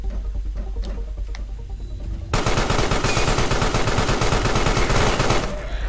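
Sudden, loud sustained gunfire in the game Carrion erupts after a quieter stretch, a rapid, continuous automatic rattle that runs for several seconds before dropping off near the end.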